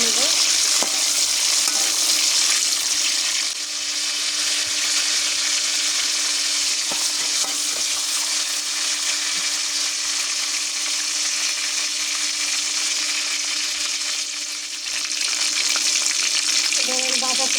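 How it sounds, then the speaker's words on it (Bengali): Oil sizzles loudly and steadily in a pan as ingredients fry lightly before cabbage goes in, with occasional stirring scrapes, continuous and close. "নেড়ে দেবো। হালকা করে ভেজে নেব।"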